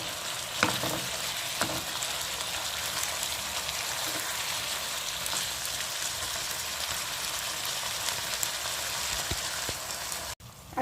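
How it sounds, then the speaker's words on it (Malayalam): Sliced onions and green chillies for chilli chicken fry with a dense, continuous crackling sizzle, like rain on a surface. Occasional light spoon knocks mark the stirring, and the sizzle drops out briefly near the end. "നല്ലപോലെ ഇളക്കാം."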